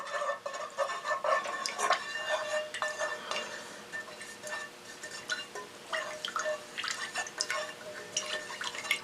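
A utensil stirs a wax finish mixture thinned with spirits in a pot, giving steady clinking, scraping and liquid sloshing, close and fairly quiet with no speech.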